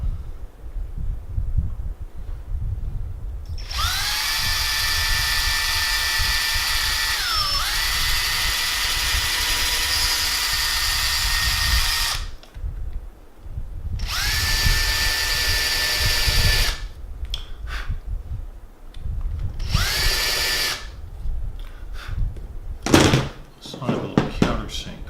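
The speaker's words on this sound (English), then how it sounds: "Drill a pilot hole." A power drill bores a pilot hole into a town scene base, whirring loudly in several long bursts with pitch sags as the bit bites, separated by short pauses and some knocking handling noises.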